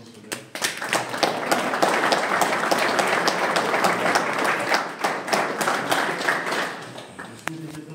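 A classroom of graduating students claps for themselves in a loud, dense round of applause that swells and then fades out over several seconds.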